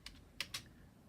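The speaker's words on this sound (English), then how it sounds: "I'm going to type in high-res" A few quick keystrokes on a computer keyboard, close and fairly quiet, with a short tapping burst and then two sharper presses, no talking.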